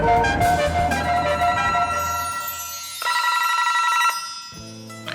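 A telephone rings loudly and repeatedly in a bright, electronic multi-tone pattern, with a brief pause and a lower tone near the end; no one speaks over it.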